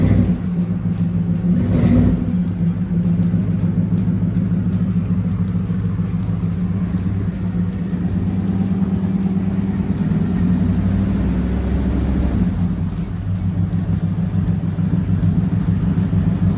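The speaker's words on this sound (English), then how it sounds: "I guess Devin, go ahead and give it a couple of revs." A second-generation Ram pickup truck engine, after a fuel system repair, revs up and settles back into a heavy, rumbling idle, close by and loud throughout, with a couple of swells in pitch.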